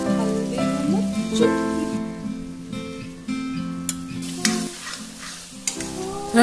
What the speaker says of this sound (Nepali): यो प्याजलाई पनि एकदमै राम्रोसँग मैले एकछिन पकाउँछु भुट्छु